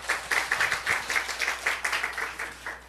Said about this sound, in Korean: 하나님께 박수 올려드려요